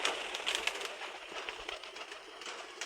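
Pigeons for sale, including a Sarampuri pair, coo softly over a hissing, noisy background with a few brief louder calls.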